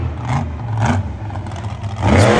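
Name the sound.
Vendetta monster truck engine revving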